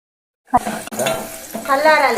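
Mustard seeds, dried red chillies and turmeric hit hot oil for a tempering, bursting into a sudden loud sizzle after a brief silence, with a stirring clack and sputtering that grows stronger near the end.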